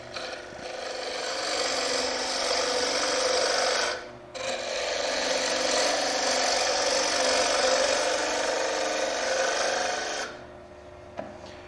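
A bowl spins on a wood lathe at about 1200 RPM while a 1/2 inch spindle gouge takes a pulling cut, riding the bevel, giving a steady loud rasping hiss with one brief pause and no talk.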